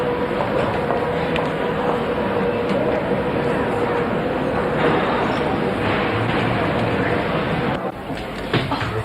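Continuous loud rumble of a train in motion, a steady broadband roar with faint rattling throughout, easing briefly near the end.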